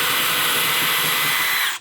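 A DeWalt cordless drill running steadily on its slow speed setting, a loud close whine held for under two seconds before cutting off.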